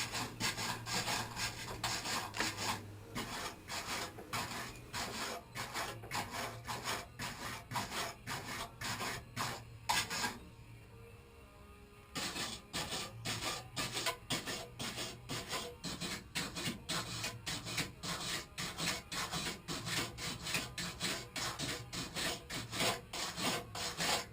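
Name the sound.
brushing car parts clean before welding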